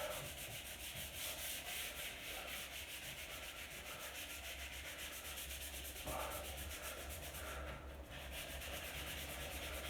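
Sanding a wooden dining table, a steady close rubbing rasp that keeps going without pause, fairly quiet and heard alone.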